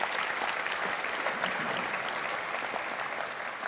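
Loud, sustained applause from a large audience at a spring debate on Britain staying in or leaving the European Union, dense clapping that fills the room and eases slightly toward the end.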